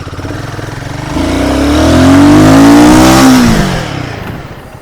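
A 2024 Royal Enfield Guerrilla 450 motorcycle idles with a close, loud thumping beat, then revs hard past 3000 RPM into a rising roar before dropping back to idle.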